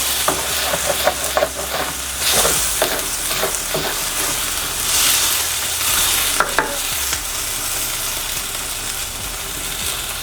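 Meat sauce for smoked spaghetti sizzles loudly in a pan while a utensil stirs and scrapes through it in repeated strokes, with steady frying hiss throughout.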